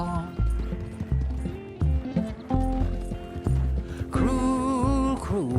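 A horse's hooves clip-clop in a steady trotting rhythm in Red Dead Redemption 2, heard under a song with singing that plays throughout.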